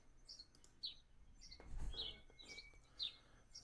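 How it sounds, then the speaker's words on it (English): Birds chirp outdoors among trees in Upper Bergen County, with short high tweets repeating every half second or so, faint and a little distant, over a low rumble of background noise. "So many birds by you."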